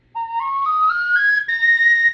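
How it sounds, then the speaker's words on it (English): A Blue Bear Flutes four-hole whistle in a Native American flute style plays a clear, loud run of notes climbing step by step, then holds a steady high tone, solo with no talking. "you can learn how to play a number of great songs on your four-hole whistle"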